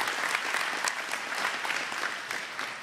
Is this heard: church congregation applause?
yes